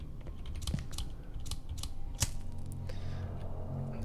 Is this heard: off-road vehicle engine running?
no